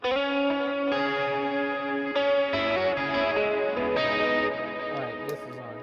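An electric guitar through a Line 6 HX Effects unit set to a 70s chorus, Cosmos echo and mild tube compression strums sustained, shimmering chords continuously, loud and alone.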